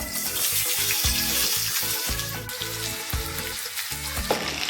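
Potatoes fry in hot mustard oil with a bright, continuous sizzle and occasional stirring scrapes, close and fairly loud, while a low musical backing plays underneath.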